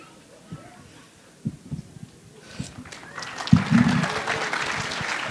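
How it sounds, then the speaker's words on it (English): Audience applause at an India Nite stage show rises from scattered faint claps and murmuring into a fuller, louder round of clapping during the final seconds. "keep the applause coming"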